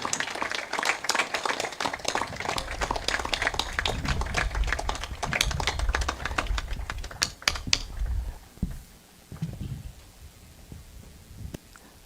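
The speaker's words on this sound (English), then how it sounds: "another round of applause for Sir Colville Young" An audience at a ceremony applauds in a dense burst of clapping that fades out after several seconds, leaving scattered claps and quiet room noise.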